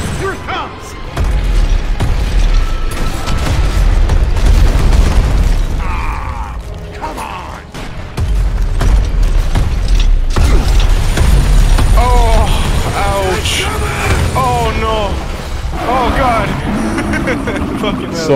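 Explosions and gunfire from the co-op video game Gears of War Ultimate Edition, with loud, dense rumbling booms and mechanical clatter filling the scene, plus brief chirping effects near the end.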